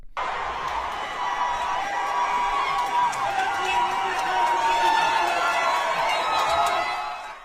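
Large crowd at an outdoor political rally: a dense, steady roar of many voices and cheering, fairly loud and sustained, swelling slightly midway before fading toward the end.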